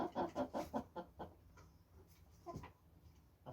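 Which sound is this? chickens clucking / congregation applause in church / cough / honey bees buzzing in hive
chickens clucking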